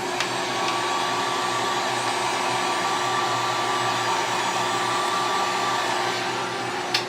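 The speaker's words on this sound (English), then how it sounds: "I'm going to give this a little bit of a force dry." A hair dryer blows steadily to force-dry freshly airbrushed paint on the belly of a model starship's secondary hull, a constant close whooshing hum that barely changes for about seven seconds.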